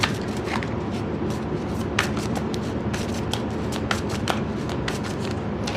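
Tarot cards are shuffled by hand in a steady, continuous riffle, close and even, with crisp flicking snaps scattered through it and no voice.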